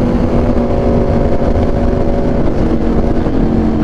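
Two 2019 Aprilia RSV4 1100 Factory motorcycles with SC Project exhausts run on a road, a loud, dense, continuous engine roar heard close, without any break.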